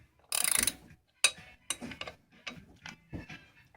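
A nut is tightened onto a turbo stud on a VW Mk4 GTI 1.8T using a second nut locked on top, producing close, sharp bursts of metallic ratcheting clicks with short pauses between them and no voices.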